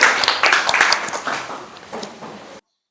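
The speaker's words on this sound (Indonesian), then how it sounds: "Tepuk tangan buat kelompok 2." Students in a classroom clap for a presenting group, giving a short burst of close, moderately loud applause that thins out and stops abruptly after a couple of seconds.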